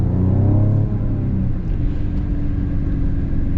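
A 2025 Mercedes-AMG GLE 53 inline-six pulls hard under acceleration, a loud, close engine note that climbs in pitch and then settles into a steady rumbling cruise.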